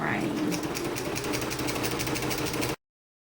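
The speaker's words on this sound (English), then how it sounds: "Just sew as close to the edge of the ribbon as you can" A sewing machine stitches along the sealed edge of a ribbon on a water bottle tote bag, running steadily and loud up close for almost three seconds before cutting off abruptly.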